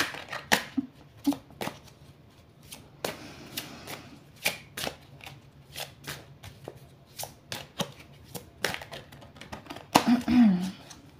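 Oracle divination cards shuffled by hand in a series of quick, crisp slaps and riffles, fairly close and steady, with a brief voice near the end.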